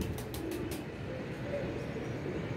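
Pigeons cooing at a rooftop pigeon perch, soft low repeated coos close by over steady background hum, with a few brief high sounds near the start and no talking.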